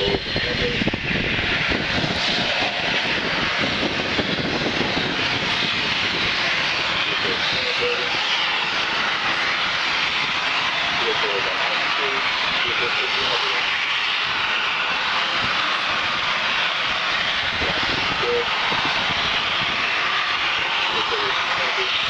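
A Mighty Eagle robotic lander vehicle descends and sets down, giving a loud, steady rocket-engine roar that runs continuously from start to end with no breaks, while faint voices talk beneath it.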